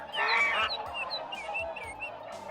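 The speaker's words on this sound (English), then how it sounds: "this morning I woke up to find no less than 7 swans all trying to get into our" Swans honk as a radio-play sound effect, a cluster of loud, close, overlapping calls followed by fainter honks scattered through the rest of the stretch.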